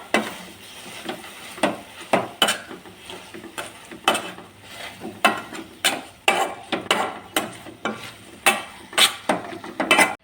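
Nendran banana and jackfruit sautéed in ghee being stirred and mashed in a pan, a string of irregular scraping and knocking strokes with short pauses between them, close and fairly loud, with no voices.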